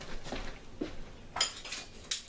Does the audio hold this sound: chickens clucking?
no